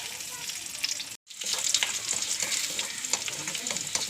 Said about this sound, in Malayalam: എണ്ണ കാഞ്ഞ ഉള്ളി ഇടണം.